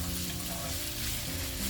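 Green beans stir-frying in a pan with fish chili, giving a steady close sizzle and crackle of frying throughout, with faint stirring and no voices.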